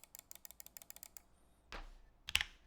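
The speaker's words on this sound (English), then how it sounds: "This is how loud the mouse clicks are at keyboard level." Computer mouse clicks on a bare desk during a keyboard prototype build, a quick run of about a dozen crisp, faint, evenly spaced clicks, then a short rustle and a sharper knock.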